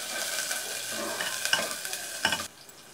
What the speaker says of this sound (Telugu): ఆయిల్ కొంచెం వేడెక్కిన తర్వాత దానిలో ముందుగా కట్ చేసి పెట్టుకుని ఆనియన్ పీసెస్ని అన్నీ వేసుకోవాలి